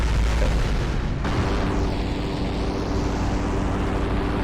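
Rack cannon in the MechWarrior Living Legends video game unloads a full clip, a heavy, continuous booming barrage of loud, low explosive rumble with a sharp cut early on.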